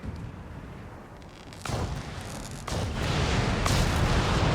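British howitzers firing an artillery volley in the Company of Heroes 3 video game, with a few loud booming blasts that each hit suddenly and then trail into a sustained roaring rumble that builds toward the end.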